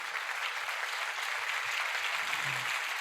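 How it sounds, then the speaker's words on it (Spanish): A church congregation applauds during a sermon, steady dense clapping from many people that fills the space at an even level throughout, with a few faint voices underneath. "Entonces, denle el aplauso a Jesús."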